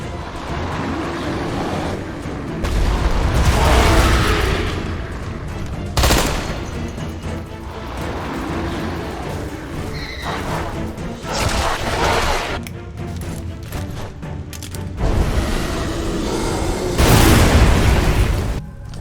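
Dense bursts of gunfire and booming explosions fill a Deadfall Adventures battle, with loud rapid volleys, sharp cracks and heavier blasts recurring throughout a busy, sustained combat scene.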